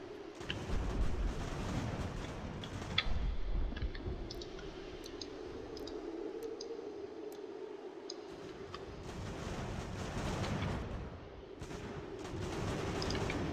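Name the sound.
artillery firing shells in the video game Ultimate General: American Revolution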